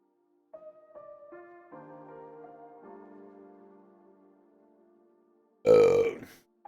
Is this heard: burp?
yes